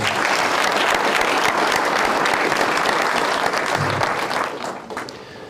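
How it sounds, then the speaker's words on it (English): A civic audience at a State of the City address in Casa Grande claps in a dense, sustained round of applause that tapers off over the final second. "Please give them a round of applause"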